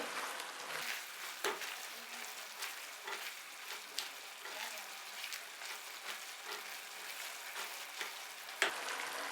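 Quiet sizzling in a frying pan with soft scraping and occasional taps of a utensil as minced beef with chili sauce and soy sauce is stirred.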